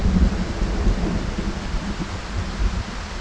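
Steady heavy rain with low rumbling thunder in Project Zomboid, a dense continuous wash of sound near and loud, with no voices.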